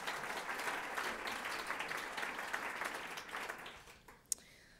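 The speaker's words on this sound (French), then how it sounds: "On les applaudit aussi." An audience at a Swiss talent event in Geneva applauds volunteers, sustained mid-level clapping heard at some distance that tapers off toward the end, with a single sharp click near the close.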